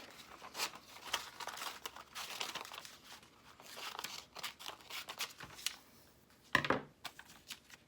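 Scissors cutting a paper picture out for a collage: a steady run of crisp snips and paper crinkles, close and fairly quiet, with one sharper rustle near the end.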